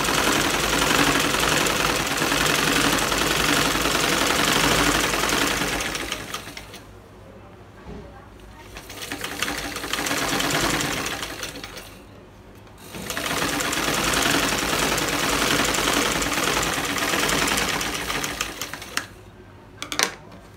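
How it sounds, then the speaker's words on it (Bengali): Sewing machine running steadily as it double-stitches a seam on a salwar, loud and close, pausing twice before the whirring resumes. "তো সেলাইটা আমি ডাবল করে দিয়ে দিচ্ছি"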